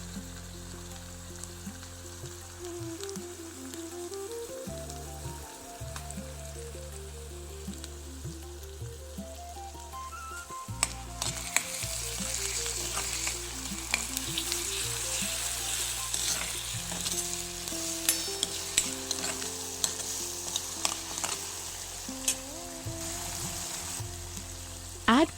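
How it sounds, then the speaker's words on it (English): Soaked moong dal is stirred into fried onions with turmeric, hing and salt for a cabbage sabji; soft background music plays throughout, and about halfway in a loud, dense sizzle rises with repeated clicks and scrapes of stirring. "Add moong dal to the fried onions now."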